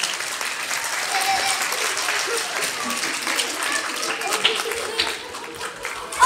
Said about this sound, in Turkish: Evet, evet efendim alkışlıyoruz.